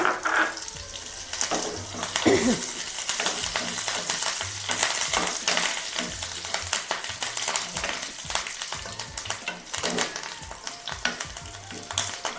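Curry leaves crackle and sizzle in hot oil, a busy steady frying hiss with scattered pops and a few metallic clinks, close by with no talk.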